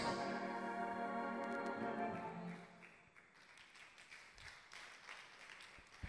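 Church congregation applauding during a sermon, a broad wash of clapping mixed with sustained tones that fades and thins into scattered claps after the midpoint.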